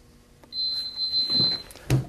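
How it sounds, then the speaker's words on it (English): A heat press for printing onto a jersey gives a single sustained high-pitched electronic beep as its countdown reaches zero. The tone lasts about a second and is followed by a couple of soft handling thumps. "It will count down to zero and beep when it's completed."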